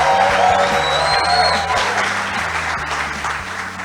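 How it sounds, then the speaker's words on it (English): Steady, dense applause from a large audience at an investor summit on the beach, loud and continuous throughout with a low musical hum underneath. "if you're having a great time by show of applause, let us know."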